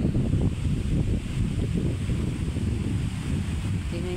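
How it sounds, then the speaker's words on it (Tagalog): Strong wind gusts around a small house and its fence, roaring and buffeting the microphone in a continuous low rush with no voices. "Mahangin mga Mars. Yan ang hangin."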